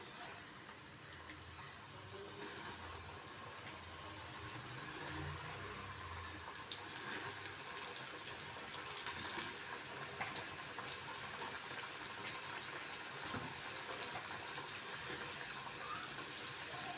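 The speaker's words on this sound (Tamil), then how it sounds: "இப்போ வந்து பொரிச்சு எடுத்துக்கலாம்." Chicken fries in moderately hot oil for a KFC-style recipe, making a steady close sizzle that grows slightly busier over time with a few faint pops.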